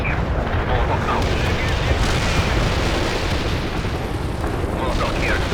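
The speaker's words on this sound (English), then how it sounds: "Artillery strike hit the mark." Artillery strike in World in Conflict, a continuous rumbling barrage of distant explosions, loud and steady throughout.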